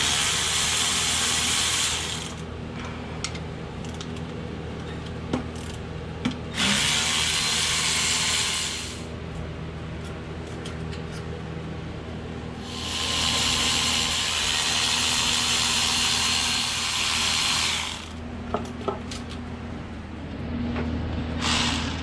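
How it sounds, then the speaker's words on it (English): A ratchet works on the valve cover bolts of an LS V8 engine during cylinder head removal. Long bursts of steady, hissing mechanical noise alternate with quieter gaps under a constant low hum. "Let's pull the valve covers off now."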